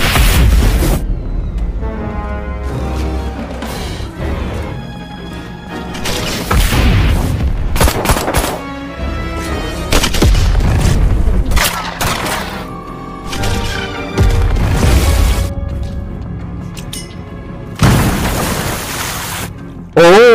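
Repeated deep booming blasts and crashes of an atomic bomb explosion in an action film roll through a dense, loud soundtrack with dramatic music, heavy impacts recurring throughout.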